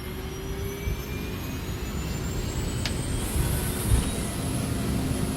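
A steady, loud jet airliner engine roar during the takeoff roll, with a rising whine filling the whole stretch, a continuous rumbling drone with no talking.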